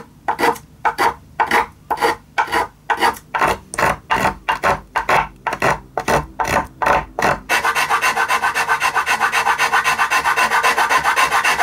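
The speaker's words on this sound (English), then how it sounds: "I'm going to use my planes to lower it almost until the same height of the block" Hand plane shaving down a violin's wooden ribs, heard close as about a dozen rhythmic rasping strokes, then a steadier continuous scraping for the last few seconds.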